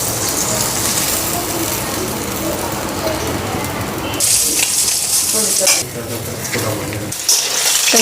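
Potatoes and eggplant sizzle while frying in hot oil, a steady, close crackle that runs the whole time, with stirring noises and clatter toward the end.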